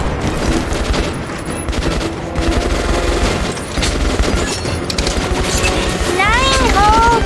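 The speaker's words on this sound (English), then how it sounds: "Bullets." Dense gunfire volleys roll continuously in a video game scene, a loud sustained fusillade layered with music and game effects, with a voice briefly audible near the end.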